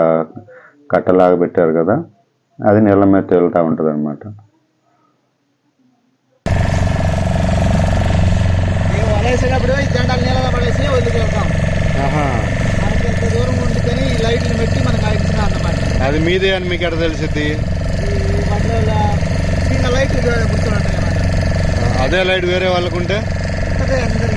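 A voice speaks briefly, then a boat engine's loud, steady drone takes over at sea and runs continuously with a rough, throbbing hum.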